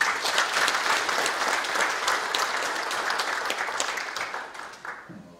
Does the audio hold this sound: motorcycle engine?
no